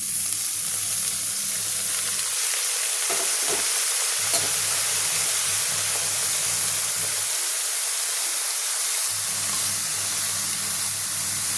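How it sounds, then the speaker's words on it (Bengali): Shredded cabbage tossed into hot oil with fried onion and chili, producing a loud, continuous close sizzle with brief pauses and scraping stirs, no voices. "এবার আমি পাতাকপিটা ঢেলে দিব"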